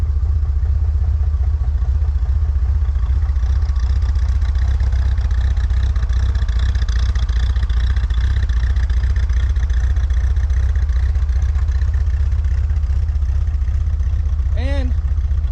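A dirty 1963 Corvair engine idling outdoors, a loud steady low rumble with a continuous mechanical drone close by, and a brief voice near the end.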